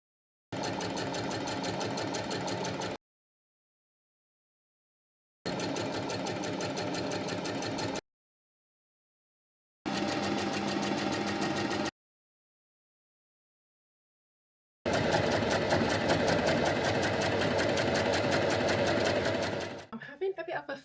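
Sewing machine stitching fabric for a summer festival outfit, several fast, buzzing runs of a few seconds each split by silent pauses, ending with one longer continuous run; close and clear.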